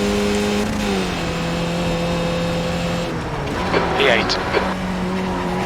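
Race car engine with a steady droning hum from a racing video game car, shifting pitch as it drifts, with tire squeal rising briefly near the end, under someone talking over it.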